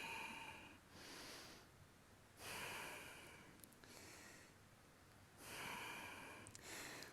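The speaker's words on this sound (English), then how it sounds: "Breathing." Steady breathing during a power yoga core and abs workout: three long, loud breathy exhales with quieter inhales between, close and alone with no talk.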